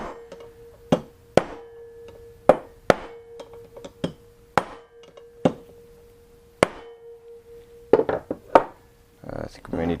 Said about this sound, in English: watching me bang on stuff with a hammer